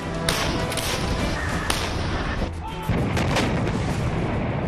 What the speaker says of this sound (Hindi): एक साथ दो हॉवित्जर तोप की लाइव फायरिंग आपको यहां पर दिखा रहे हैं।